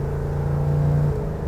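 A 1970 Chevrolet Chevelle's engine and exhaust hold a steady, deep idle-like rumble close by, with a slight rise in pitch partway through, alone without talk.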